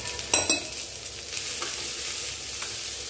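Cumin, ginger and onion tempering lightly in hot oil, a soft steady sizzle with a few sharper crackles and spoon scrapes near the start, close and alone.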